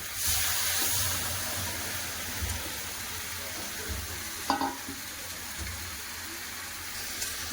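Meat and onions frying in a pan give a continuous close sizzle and hiss, with one brief clatter of stirring partway through.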